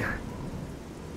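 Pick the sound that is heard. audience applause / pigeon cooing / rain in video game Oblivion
rain in video game Oblivion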